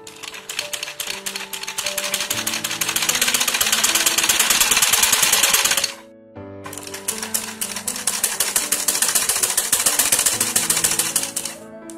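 A sewing machine stitches a fall onto a saree, running in fast, steady mechanical bursts with a brief pause near the middle before it resumes, loud and close with no talk.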